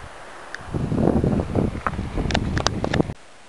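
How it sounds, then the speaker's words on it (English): Gusty wind rushes across the microphone at a river in Gorges State Park, with rustling and a broad outdoor wash of moving air and water, plus faint chirpy high notes, before cutting off abruptly. "Sitting here listening to the sounds of the river and the wind and looking out over this view"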